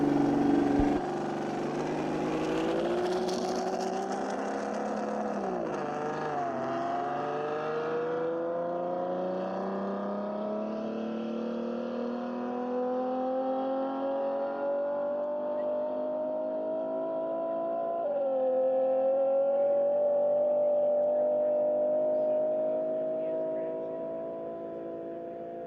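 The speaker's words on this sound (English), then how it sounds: "that car's sounding really good in comparison to yesterday. Nice clean shifts. The engine sounds really mean." Race car engine at the Bonneville speed trials, revving loud and steady across the run with clean gear shifts marked by pitch drops and rising whine, sustained throughout with voices talking over it.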